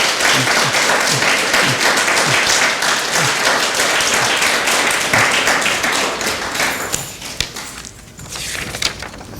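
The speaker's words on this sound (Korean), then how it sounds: "3명을 위해서 큰 박수 다시 한번 쳐드리겠습니다" A church congregation gives a big round of applause for three of its members, a loud, dense clapping that gradually thins and fades toward the end.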